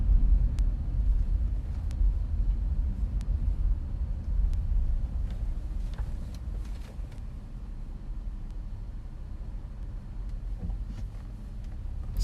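Steady low rumble of a car's interior road noise while driving, continuous and even with faint higher ticks over the drone and no voices.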